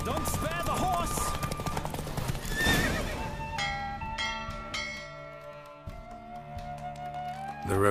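Rapid hoofbeats clatter in a steady gallop during a horse race in a Witcher video game, joined by a horse's whinny and a bright ringing bell, with a voice briefly calling out over the racing sounds.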